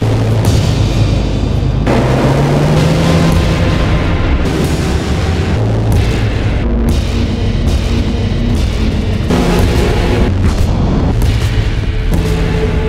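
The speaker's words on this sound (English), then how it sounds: "The sound effects of our shots turning our enemies' brains into kimchi almost creates a diegetic soundtrack" Gunshots hitting enemies in Children of the Sun, a loud continuous barrage of booming impacts and bursts layered over thick, gritty game music.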